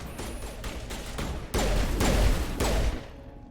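Rapid gunfire from Mass Effect, a run of sharp shots followed by a louder, denser burst, close and with no talk over it.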